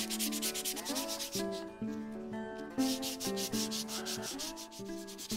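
Sandpaper rubs back and forth over a stone oloid in steady, close strokes, a dry rasping sound repeating in quick rhythm with brief pauses, with no voices.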